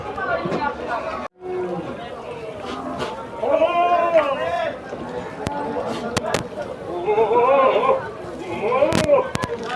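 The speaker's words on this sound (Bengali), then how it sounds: "তো দেখতে পাচ্ছেন বড় ছাগলটা আমাদের চট্টগ্রাম সাগরিকা পাঠার বাজারে" Goats bleating at a livestock market in Chattogram, several wavering calls repeating over a busy crowd, with people chattering and talking nearby throughout.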